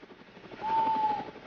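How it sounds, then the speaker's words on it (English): A helicopter drones steadily overhead at moderate distance, its engine hum rising briefly as it passes in. "Just then, Harold the helicopter flew in."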